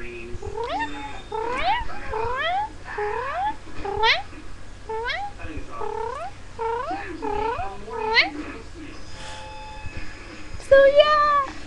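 A person imitates a cat with a rapid series of rising and falling meow-like yowls, caterwauling in quick bursts, close and fairly loud, ending in a higher squeal.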